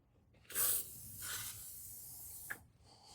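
A WD-40 aerosol can gives a short, close hissing spray, then a longer softer burst, with a faint click near the end against a quiet room.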